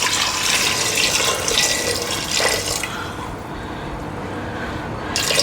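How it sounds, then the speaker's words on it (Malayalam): Water pours into a cooking pot for simmering, with a steady watery rush that runs for several seconds, eases, then returns briefly at the end. "വെള്ളം ഒഴിക്കാം."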